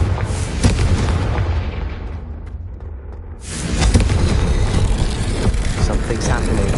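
Confringo blasting spell in Hogwarts Legacy bursts in loud, booming explosions, a dense roar that drops briefly and surges back, with game voices speaking over the noise.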